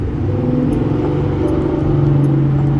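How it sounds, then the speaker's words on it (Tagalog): Motorized tricycle rumbles by on the street nearby, a loud, steady low engine drone with a faint whine that swells slightly as it passes. "Patahanin muna natin guys yung dumaan na tricycle. Maingay."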